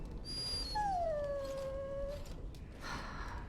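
A dog in the Dragon Age: Origins video game gives a long, drawn-out whimpering whine that bends downward, alone and fairly faint over a soft background hum.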